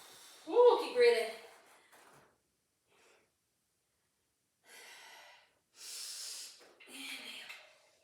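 Heavy, forceful breaths during a Pilates exercise on a tower or Cadillac apparatus, with two sharp exhales at the start, then a pause and several softer, breathy inhales and exhales, close to the microphone.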